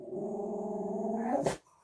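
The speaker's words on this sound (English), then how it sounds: "That's Spud the dog in the background" A dog growls low and steady in the background for under two seconds, then a short sharp noise cuts it off.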